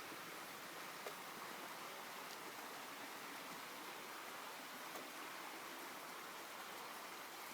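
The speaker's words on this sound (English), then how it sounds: "Water flowing, and I'm sure you can hear it." A creek flowing after rain gives a steady, even rush of water, continuous and moderately near, with a few faint drips or splashes and no voices.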